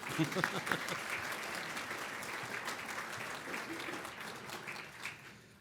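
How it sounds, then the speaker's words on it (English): An audience applauds in a hall, many hands clapping steadily for several seconds before tapering off, with faint voices mixed in. "So you already applauded Trudy, but let's give it one more time."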